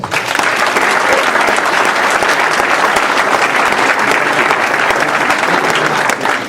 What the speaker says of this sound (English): give Billy Sample a round of applause